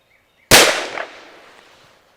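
A single sharp gunshot from an M&P 22 Magnum handgun firing Hornady V-Max ammunition, loud and close, cracking suddenly out of near silence and trailing off in a brief outdoor echo.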